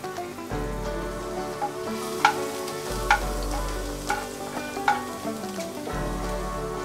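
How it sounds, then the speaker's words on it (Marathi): Crushed garlic cloves frying in hot oil in a pan, a steady close sizzle with a low rumble and a few sharp spoon taps against the pan. "आता ह्याच्यात आपण 4 ते 5 ठेचलेल्या लसूण पाकळ्या घालायचे।"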